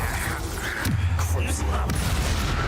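Bombarda spell blasts in Hogwarts Legacy, a couple of booming impacts with low rumble and crackle over dense game ambience, under a voice casting the spell.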